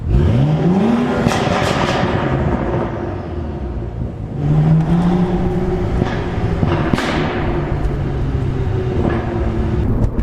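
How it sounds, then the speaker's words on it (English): A 2012 BMW 135i with a catless downpipe and a pops-and-crackles tune revs repeatedly, the engine note rising and falling in several sweeps over a steady loud exhaust drone, with sharp crackles and pops between revs. "let me go ahead and show you this exhaust so you guys can hear just how awesome this car is"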